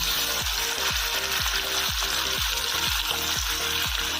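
Steady loud sizzling of marinated chicken for chilli chicken frying in hot oil in a kadai, with a regular series of low thumps roughly every half second beneath the crackle.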